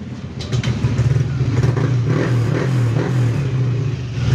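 Yamaha Aerox or NMAX scooter engine, just repaired for an Error 12 fault, starts on the push button and settles into a steady, close, loud idle with a low throbbing note and light mechanical clatter.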